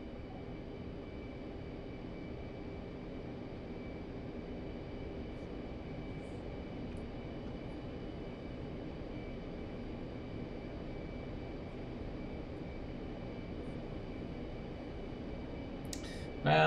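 An F-15 jet in the DCS World flight simulator holds a steady, loud engine roar on takeoff that barely changes over the whole stretch, with a brief jump in loudness right at the end.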